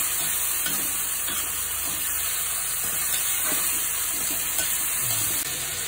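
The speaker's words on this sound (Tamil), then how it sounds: "அந்த வெங்காயத்தை கூட சேர்த்து தக்காளி பழத்தையும் வறுக்கணும்" Onion and tomato with garam masala fry for pulao in a pan, giving a steady, close hissing sizzle with faint stirring ticks scattered throughout and no voice over it.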